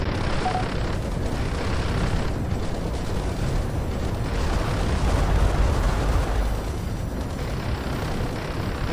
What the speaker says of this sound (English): Strategic bombers. Start bombing all this.